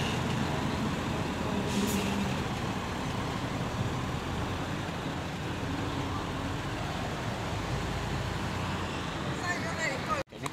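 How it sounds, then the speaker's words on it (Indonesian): Aneka Jaya intercity economy bus on the long Dumai–Pacitan route, a steady loud engine and road rumble with a brief air-brake hiss, continuous near noise throughout before cutting off at the end. "Ini bus Aneka Jaya, unit bus main terjauh Dumai Pacitan."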